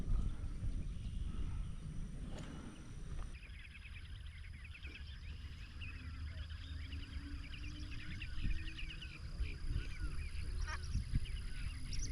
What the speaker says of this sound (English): It's a goddamn bird bonanza out here.